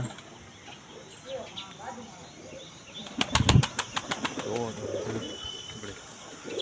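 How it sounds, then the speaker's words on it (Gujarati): A burst of pigeon wings flapping loudly nearby, several quick beats in a row, followed by soft cooing and light background noise. "આપણા કબૂતર છે"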